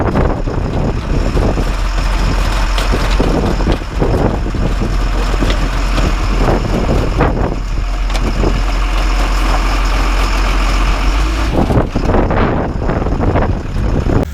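An LMTV M1078 military truck stuck while trying to drive over cars, its engine running loud and close throughout, with heavy low rumble, wind buffeting the microphone and scattered clanks and knocks.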